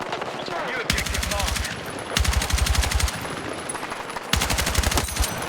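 SMG fire in the video game Battlefield 6 comes in three long, rapid automatic bursts with short gaps between them, loud and close over background game noise.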